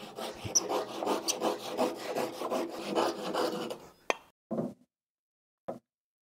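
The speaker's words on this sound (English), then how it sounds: "I still want to try a hand saw" A hand saw cuts through wood in steady, rasping back-and-forth strokes for about four seconds, loud and close, followed by a few separate knocks and plops as the piece comes free.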